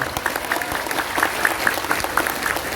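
A large congregation applauds at a crowded Islamic religious gathering in Taichung, Taiwan, with dense, continuous clapping close and loud throughout.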